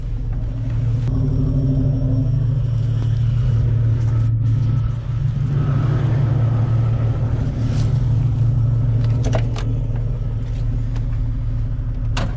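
A Jeep XJ engine idles with a steady low rumble, running slightly lean and sputtering now and then, heard close and continuous with no talking.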